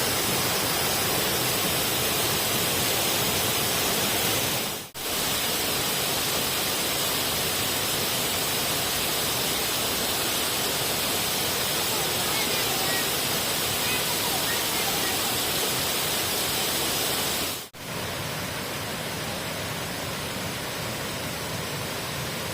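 Constant broadband rush of Than Sawan Waterfall in Phayao, Thailand, loud and unbroken throughout, with two brief dips where the sound cuts out momentarily.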